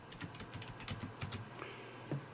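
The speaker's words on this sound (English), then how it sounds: "I'm going to go down here to the search area and I'm going to type in themes" Typing on a computer keyboard during a PC setup, a quiet run of light, irregular key clicks close by with no talk.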